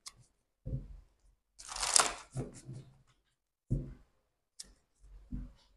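Oracle cards are shuffled by hand in a quiet room, with several short papery riffles and slides separated by pauses, one longer crisp burst in the middle.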